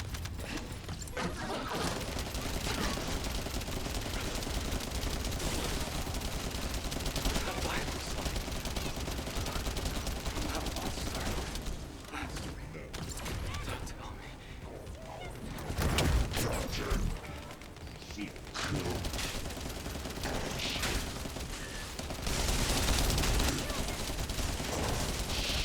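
Video game gunfire: rapid bursts and sustained automatic shooting under a dense clattering battle mix, with voices talking over it.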